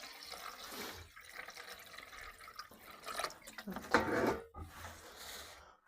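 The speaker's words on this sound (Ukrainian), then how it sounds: "Вливаємо зараз водички все відро." A full bucket of water poured out into a feeder for backyard chickens, a splashing gush swelling near the end over a steady wet wash, with faint voices nearby.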